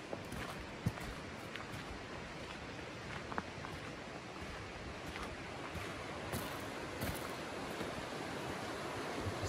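Natural spring water flowing steadily at Blue Springs in the Ozarks, a continuous close broadband rush with faint ticks and splashes and no voices.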